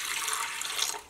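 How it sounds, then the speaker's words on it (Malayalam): Water pours into a pressure cooker in a home kitchen, a steady close hissing splash lasting about a second before tapering off, with no talk over it. "ഒരു കുക്കർ എടുക്കുക, ഇതിലേക്ക് വെള്ളം ചേർക്കുക."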